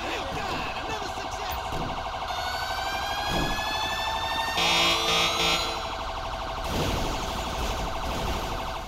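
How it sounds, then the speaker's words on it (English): A fire truck siren in GTA 5 wails in rising and falling sweeps, joined by a lower horn-like blast midway, loud and close over a steady vehicle background, with a voice talking partway through. "Fire truck."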